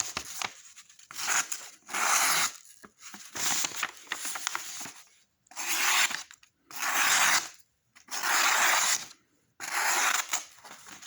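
A Gerber STL 2.5 pocket knife cutting and tearing through material, heard as eight or so rasping, ripping strokes of about a second each, separated by short silences, close and fairly loud with no talking.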